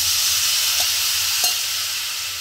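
Whisked yogurt hitting hot Rajasthani dal in a pan, a steady bright sizzling hiss throughout with two faint taps of stirring, close and even.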